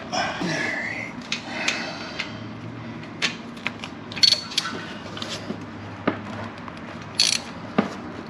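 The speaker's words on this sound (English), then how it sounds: "Put the drain bolt back in. And we're going to snug that up." Metallic clicks and short ratcheting scrapes of a drain bolt being snugged up on a Z125 motorcycle, close and irregular, with a faint voice in the background.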